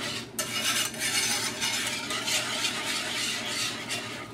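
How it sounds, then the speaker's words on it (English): A spoon stirs thickening gravy in a pan while making shepherd's pie, a steady broadband scraping and bubbling that runs unbroken at moderate level with no talking. "Gonna mix that all in."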